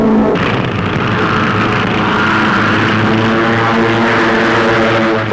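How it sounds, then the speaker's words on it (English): Propeller-driven WWII fighter planes take off from a nearby airfield, a loud, steady engine drone with a low rumble that holds throughout, with no voices. "United Nations pilots take to the sky in fast fighting pursuit ships."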